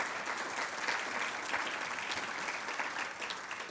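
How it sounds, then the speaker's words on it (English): Audience applause at a college graduation ceremony, a dense, steady wash of many hands clapping, fairly faint and continuous without speech. "please join me in giving all of these individuals a round of applause"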